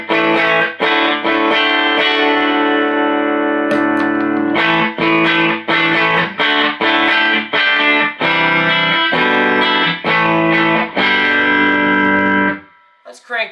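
Electric guitar through a One Control Sonic Blue Twanger overdrive pedal into a Mesa amp, crunchy tone playing strummed chords and short phrases, loud and close, ending with a ringing fade.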